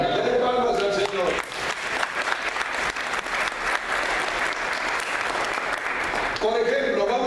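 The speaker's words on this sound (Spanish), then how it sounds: "denle palmas al Señor" A church congregation at an evangelistic service breaks into loud sustained applause, filling the room for several seconds, with a voice speaking over the clapping at the start and again as it fades out.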